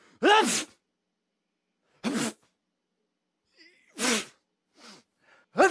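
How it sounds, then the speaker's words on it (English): Three sharp sneezes spaced a couple of seconds apart, loud and close, with small breaths and sniffs between them. "hearing those sneezing sounds for the rest of this video's"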